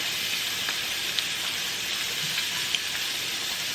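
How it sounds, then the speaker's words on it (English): Shrimp for shrimp scampi fries in a skillet on the stove with a steady, close, dense sizzle, broken by a couple of small pops. "just place it in the stove on the skillet. And we're just going to brown each side for about 2 minutes"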